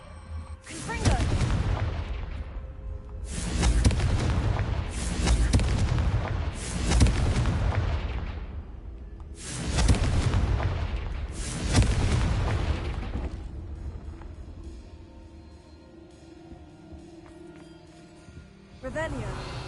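Confringo blasting spells exploding in Hogwarts Legacy, a series of about five loud, sharp blasts in quick succession, each with a crackling decay, followed by quieter ambience and faint speech.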